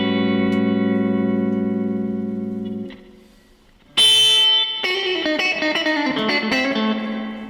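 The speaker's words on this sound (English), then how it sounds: "the reproduction of the spring effect is very accurate" Guitar played through a tc electronic Drip spring reverb pedal: a sustained chord rings and fades, then a bright strum and quick picked notes follow, each trailing a splashy spring-style reverb tail.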